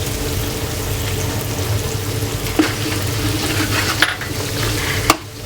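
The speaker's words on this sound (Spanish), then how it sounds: "Ahora vamos a meter el ajo, sofreiremos un poquito" Garlic and tomato frying in oil for a bull's liver paella, a loud continuous sizzle with stirring scrapes and a few sharp clinks of a utensil against the pan.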